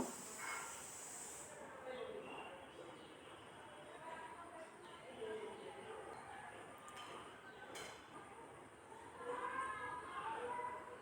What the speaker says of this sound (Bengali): একটা একটা করে মাংসগুলো সব তেলের উপরে দিয়ে দেব।